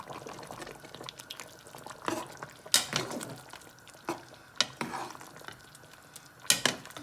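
A spoon stirs gnocchi primavera in a pan, giving soft scraping and clinking strokes at irregular intervals over a quiet kitchen background.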